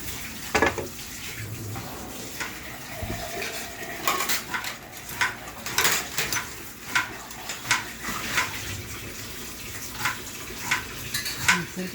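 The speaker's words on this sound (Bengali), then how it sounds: "এটা হচ্ছে আমাদের হায়দ্রাবাদের শিলনোড়া এখানে মৌরি দিয়েছি বা এটাকে নিয়ে কুটবো" Fennel seeds are pounded on a sil-nora grinding stone in a Hyderabad kitchen: a run of irregular, fairly close stone knocks and scrapes continuing throughout, with no talking.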